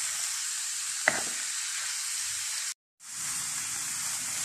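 Carrot and zucchini filling with chicken stock sizzles steadily in a pan, a continuous close frying hiss with a single stirring scrape and a brief cut in the sound.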